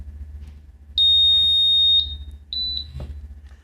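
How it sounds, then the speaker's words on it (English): A gas detector powering up lets out a long electronic beep, then two short beeps, over a low steady hum, close and loud. "Once the meter beeps, we know we can release the button"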